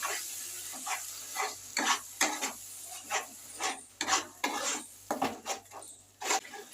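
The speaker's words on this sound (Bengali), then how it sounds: "মশলাটা এবারে ভালো করে আরও কষিয়ে নেব" Mustard, onion and green chilli paste is stir-fried in a pan, with a soft background sizzle and repeated scraping strokes of a spatula in an uneven rhythm, close and moderately quiet with no voices.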